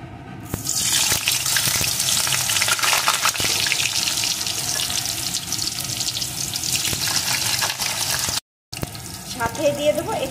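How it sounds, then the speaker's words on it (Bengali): Potato pieces drop into hot mustard oil and set off a loud, dense hissing sizzle that carries on steadily. A brief dropout comes near the end, followed by a faint voice-like murmur. "সবার প্রথমে এখানে আমি টুকরো করে কেটে রাখা আলুগুলোকে দিয়ে দেবো।"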